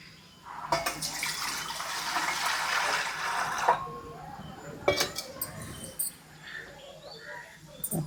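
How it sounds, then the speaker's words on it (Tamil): Water is poured into an idli steamer pot set on a lit stove: a close rushing pour of about three seconds, followed by scattered clanks and light splashes. "தண்ணி ஊற்றுறோம்."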